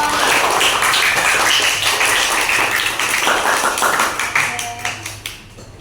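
Classroom students clapping together, a dense steady patter of many hands that stays loud before thinning into a few scattered claps at the end.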